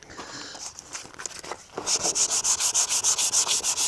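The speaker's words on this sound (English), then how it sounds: "take it and just sand this down" Hand sanding a Cuban yoyo fishing handline with 220 grit sandpaper: scattered scratchy rubs at first, then a rapid, even run of about a dozen close back-and-forth strokes, no talking.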